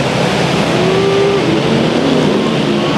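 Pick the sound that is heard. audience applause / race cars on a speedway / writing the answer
race cars on a speedway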